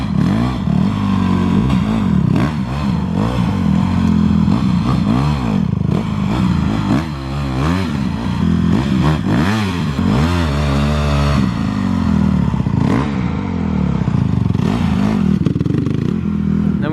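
Honda CRF150R dirt bike engine revving hard through an obstacle test, loud and close, with rapid rising and falling throttle blips and constant mechanical clatter throughout.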